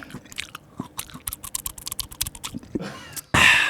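Soft, juicy food is chewed close up in quick, uneven, wet crunchy bites, followed by a sudden louder rustling burst near the end, with no talking.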